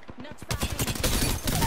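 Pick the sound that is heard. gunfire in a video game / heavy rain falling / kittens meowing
gunfire in a video game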